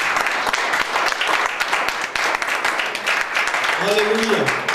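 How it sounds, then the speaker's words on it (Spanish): Congregation at a Spanish-language church service gives a sustained round of dense applause, loud and close, with voices and a brief exclamation rising near the end. "Denle un aplauso a Dios por eso."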